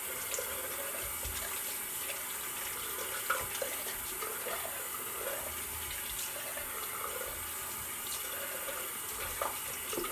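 A tap runs steadily into a sink for rinsing after a shave, a close, continuous splashing hiss with small gurgles and no talking.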